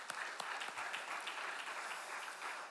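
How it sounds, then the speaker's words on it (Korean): A church congregation at a Saturday dawn worship service gives a round of encouraging applause, a steady wash of many hands clapping at moderate distance, fairly soft and without talk. "우리 한번 격려의 박수 한번 보내시겠습니다"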